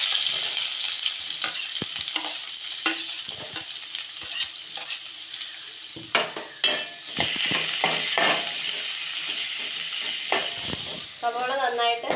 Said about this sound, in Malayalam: കടുക് പൊട്ടിക്കഴിഞ്ഞ് നമുക്ക് സവോള ഇട്ട് കൊടുക്കാം.